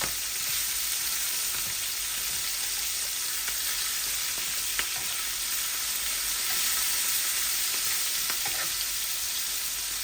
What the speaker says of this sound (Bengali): এই আমার মাছ ভাজা হয়ে গেছে